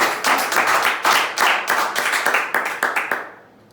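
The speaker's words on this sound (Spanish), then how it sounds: "Si lo va a aplaudir, apláudelo, hermano." Church congregation clapping in a quick, steady rhythm, a dense burst of many hands close by that fades out at the end.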